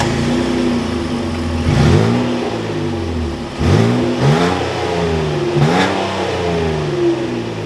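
A 2023 Nissan Frontier PRO 4X engine runs close by and is revved three times, each rev climbing sharply and falling back to a steady idle between them, loud and with no voices.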